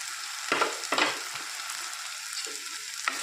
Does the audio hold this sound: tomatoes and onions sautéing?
yes